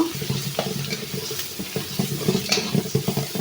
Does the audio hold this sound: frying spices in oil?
yes